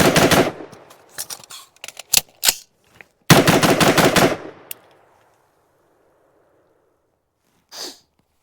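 AR-15 rifle shots fired at a target on a range, a string of sharp, loud, close cracks in uneven succession, some in rapid pairs, followed by a dense rapid burst, then silence and a brief faint noise.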